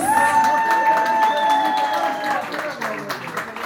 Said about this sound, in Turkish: Bir alkışlar mısınız?